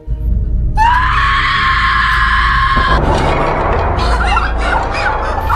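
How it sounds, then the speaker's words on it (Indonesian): A woman lets out a long, piercing scream lasting a couple of seconds, then it cuts off into tense, noisy background sound. "Dan teriakan itu sempat membangunkan Jackson."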